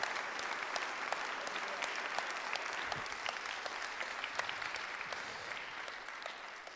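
An audience at a French municipal council installing a new mayor applauds steadily for several seconds, a dense even patter of many hands heard from a moderate distance.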